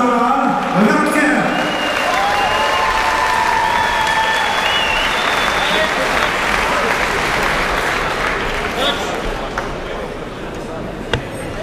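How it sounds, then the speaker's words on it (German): A crowd at a kickboxing fight night applauds loudly and steadily for the two fighters, dense clapping and cheering over an announcer's voice heard at the start. "Ladies and Gentlemen, geben Sie einen großen Applaus für die Kämpferinnen aus Kampf 3"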